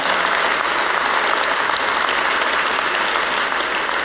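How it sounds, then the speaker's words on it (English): A dense, steady round of applause from a large conference audience at a cystic fibrosis plenary session, loud and sustained throughout with no pauses. "Yeah, you clap for that."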